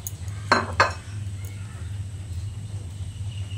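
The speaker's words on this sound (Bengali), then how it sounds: "তারপর একটা পাত্রে রেখে দিচ্ছি।" Peeled taro pieces drop into a bowl with two quick close knocks about a third of a second apart, followed by quiet room hum.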